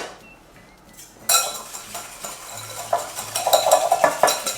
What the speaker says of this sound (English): I'm gonna add the sugar like that, and now I'm going to whisk it properly.